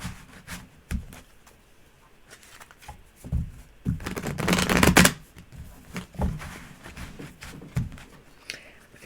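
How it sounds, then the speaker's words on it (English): Tarot cards shuffled by hand in a run of papery riffles and slides, the loudest burst about halfway through, with softer taps and shuffles before and after and no talking. "Shuffle one more time for you."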